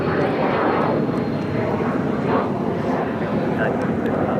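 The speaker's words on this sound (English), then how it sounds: "It's Fiji flight A10 coming up from Nandi." A Fiji Airways flight from Nadi arrives at LAX, its jet engines giving a loud, steady broadband roar throughout, with talk faintly underneath.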